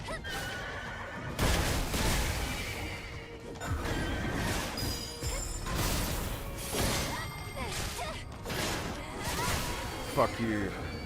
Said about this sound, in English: Why does that Natiba sound like a horse when it doesn't have a mouth?